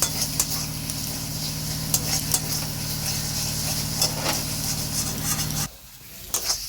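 Chopped tomato being sautéed into a masala in a pan for an echor chingri dish, a continuous sizzle under steady scraping stirs that stops abruptly near the end, heard close.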